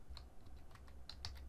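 Quiet, close keystrokes on a computer keyboard, a quick irregular run of about eight soft taps and clicks over a second and a half.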